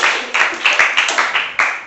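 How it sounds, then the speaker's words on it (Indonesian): Several people in a classroom clap in a steady, fairly quick rhythm for a student, each burst sharp and close, with no talking over it. "Tepuk tangan untuk Mbak Kirana."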